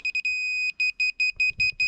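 A post level used while setting posts for a tiny cabin gives a piercing electronic alarm, first a few quick beeps, then one long steady tone, then a steady run of repeated short beeps, loud and close.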